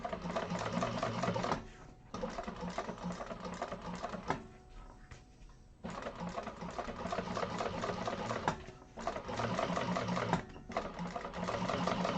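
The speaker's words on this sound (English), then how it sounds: "we're going to top stitch through the lining piece to keep that seam in place" Sewing machine top stitching through the lining piece of a handbag, running in long steady bursts with brief pauses between passes, close and clear with no talk.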